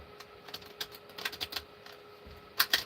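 Cards and small charms being shuffled to cleanse them, an irregular patter of light clicks and riffles that grows busier and louder toward the end, with no one speaking.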